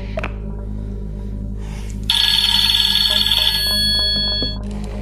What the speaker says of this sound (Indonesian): Setelah itu terdengar suara dering telepon yang sangat banyak